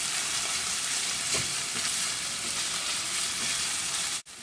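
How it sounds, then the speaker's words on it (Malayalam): Chopped vegetables sizzle steadily in olive oil for vegetable pulao, a continuous close frying hiss with faint spoon scrapes while being stirred. "അങ്ങനെ ഇത് നന്നായി കുക്കാവുന്ന വരെ അടുപ്പത്ത് വെച്ച് നന്നായി ഇളക്കി കൊടുക്കുക."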